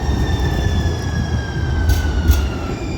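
Steady low rumble of a light rail train in motion with a faint high whine, continuous and fairly loud, with no talking.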